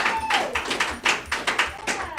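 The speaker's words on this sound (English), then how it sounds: "nice round of applause for Artemis and Vincent" A small studio audience applauds on a live talk show, a short burst of distinct, fairly close hand claps in an irregular rhythm, with voices talking over them.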